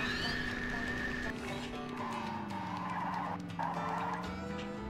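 A turbo boost and skidding in the SpongeBob Movie video game, a continuous engine drone with whining tones and tire-squeal skids over busy game effects.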